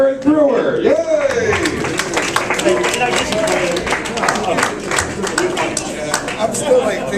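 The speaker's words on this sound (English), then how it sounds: "Thank you so much for clapping when you heard my name" A comedy club crowd at Funny Stop Comedy Club claps and cheers as a comedian takes the stage, steady applause running under the comedian's loud talking and some laughter.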